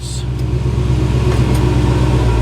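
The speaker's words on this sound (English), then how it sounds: "Couple of courtesy revs." A car engine being revved a couple of times just after starting, with a steady low mechanical drone throughout, loud and close with no talking.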